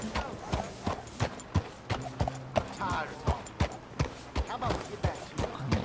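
Rhythmic hoof clip-clops from a horse moving at a steady pace in Red Dead Redemption 2, with a voice talking over the clattering steps.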